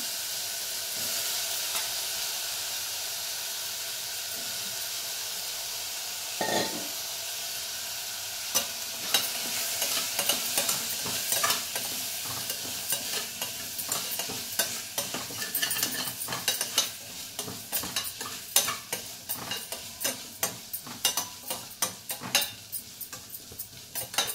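Potato and carrot pieces fry in a pan with a steady sizzle while a spoon stirs them, scraping and clinking in quick irregular strokes that grow busier and louder toward the end; no one speaks.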